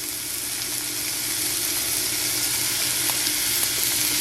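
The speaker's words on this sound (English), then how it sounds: "we're just going to lay these in a pan that's got medium heat on it. And you can hear it sizzle." Mushroom-based bacon strips sizzle steadily in a pan over medium heat, a close, continuous frying hiss with faint crackles.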